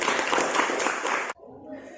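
A classroom of students gives a brief burst of applause, a dense rush of claps lasting over a second before cutting off abruptly into quiet room tone.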